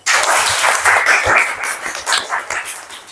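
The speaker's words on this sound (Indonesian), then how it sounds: "Oke, tepuk tangan dulu." Audience applause in a classroom session, a short burst of dense clapping from a group of people that starts at once and tapers slightly toward the end.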